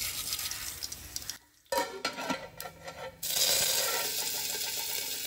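Cumin and mustard seeds hit hot oil in a pan while tempering for Goan chole: a light clatter, a brief lull, then a loud, steady crackling sizzle.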